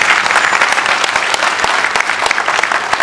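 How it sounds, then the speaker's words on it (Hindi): Loud, dense applause from an event audience, a steady wash of many hands clapping without a break for about three seconds. "जोरदार तालियां इन सब के लिए"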